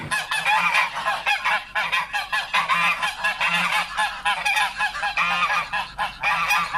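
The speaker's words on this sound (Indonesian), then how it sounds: "Wah, ini ada angsa teman-teman." A goose, likely a toy among animal figures, honks in a quick repeated series of loud, close, nasal calls with short gaps, continuing without pause and no voices heard.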